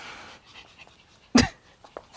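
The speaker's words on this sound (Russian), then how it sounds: "Это Няша, собака Тумба" A spitz dog pants close by, with a short burst of breathing near the middle and a fainter huff near the end, set against quiet room noise.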